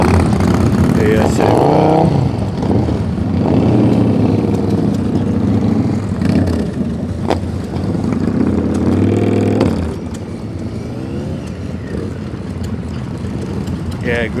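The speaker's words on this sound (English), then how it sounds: "a lot of bikes here" Many motorcycle engines rumble and rev together at a club crank-up gathering, a dense, loud, steady drone with occasional louder revs, while someone talks over it nearby.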